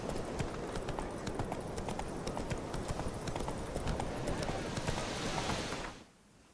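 Hooves of Roach, a horse in The Witcher 3, clip-clop in a steady, brisk rhythm over a dense ambient bed, fairly close, before stopping abruptly near the end.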